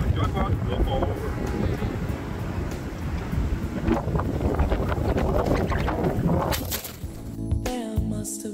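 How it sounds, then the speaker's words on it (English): Strong wind buffets the microphone in heavy, continuous gusts with a low rumbling roar at night outdoors, loud and close, and the noise shifts abruptly near the end. "It's currently incredibly windy"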